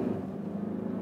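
Diesel engine of a 2016 Range Rover Evoque facelift with manual shifting, a low steady drone heard from inside the cabin during a brief acceleration.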